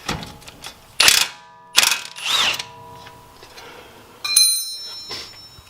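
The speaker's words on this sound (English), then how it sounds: "You have to take it all the way out with the spanner." A ratchet spanner undoes a hub bolt in several bursts of rapid clicking, close and sharp, separated by short pauses and a brief metallic ring toward the end.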